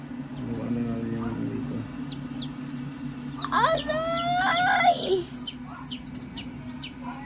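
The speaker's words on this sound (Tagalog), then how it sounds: "magmamarking na tayo ng manok" Chickens chirp and call in bright, quick bursts over a steady low hum, with a brief low clucking sound early on and faint talk in the background.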